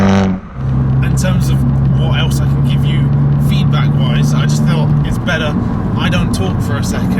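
Abarth 695 70th Anniversario hot hatch driving on open roads, a steady loud engine drone with a sustained tone for several seconds, then continuing road and engine noise throughout.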